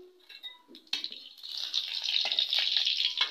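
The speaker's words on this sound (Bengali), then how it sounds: "শুকনো লঙ্কা আর একটু 5 ফোড়ন দেবো, একটু নেড়ে নিব।" Dry red chillies and five-spice seeds (panch phoron) sizzle and spit in hot oil while being stirred, a steady close frying hiss that swells and stays loud after a brief quieter start.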